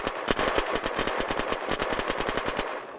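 Rapid automatic gunfire in the video game Unturned during arena PvP, a fast, evenly spaced stream of loud shots lasting the whole stretch, with no talking.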